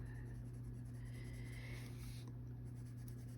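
Colored pencil scratches on paper while coloring in a Lisa Frank book, a very faint, soft, continuous scraping with light strokes over a low steady hum.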